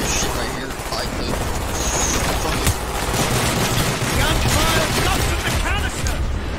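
Call of Duty Black Ops gameplay with continuous dense gunfire and rattling automatic bursts, loud and chaotic, with voices shouting over the din.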